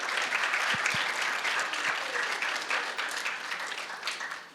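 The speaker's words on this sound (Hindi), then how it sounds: "जिनको समझ में आया उन्होंने ताली बजा दी" Audience applause at a live conversation event, a dense burst of clapping from a crowd that holds steady and then begins to thin out toward the end.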